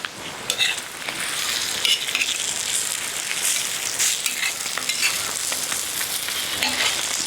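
Parotta frying in oil on a hot pan, a steady crackling sizzle up close with occasional scraping and turning sounds, no voices.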